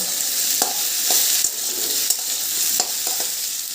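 Potatoes and boiled elephant foot yam frying in a pan, a steady close sizzle broken by repeated scraping clacks of a spatula stirring, with no talking.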